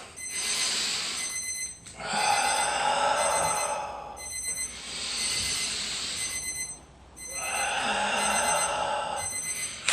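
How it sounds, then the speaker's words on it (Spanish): An alarm rings in long, bright, metallic bursts of about two seconds each, repeating with brief gaps, loud and steady against a quiet room. "No sé la alarma dónde está, pero está por ahí."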